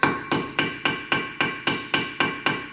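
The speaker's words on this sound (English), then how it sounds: "give it a couple of good whacks to loosen up any built-up rust" A hammer raps a Phillips bit seated on rusty brake rotor screws of a 2016 Kia Rondo, ten sharp metallic whacks at a steady, even pace, close and alone.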